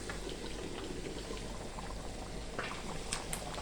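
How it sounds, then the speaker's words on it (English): Steady crackling and sizzling of chicken feet frying in hot oil under a splatter guard, a dense bubbling hiss with occasional sharper pops, fairly quiet and close. "And they're busy frying, but you have to put a protector because of the blasting of the oil"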